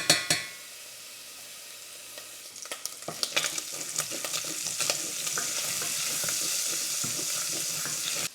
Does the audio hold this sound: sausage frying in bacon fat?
yes